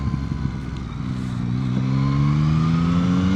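Yamaha MT-09 motorcycle with a CP3 three-cylinder engine accelerates, its pitch climbing steadily and growing louder under riding wind noise.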